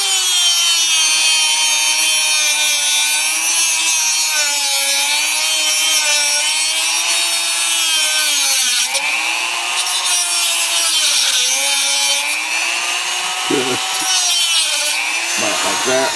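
A steady, loud rasping saw or file cuts a slot into an IBM Selectric III typewriter paper guide slider, grinding continuously up close with only brief shifts in stroke near the end.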